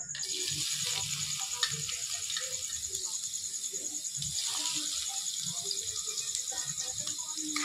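Chopped garlic and ginger frying in mustard oil give a steady close sizzle with light crackle, continuing evenly throughout.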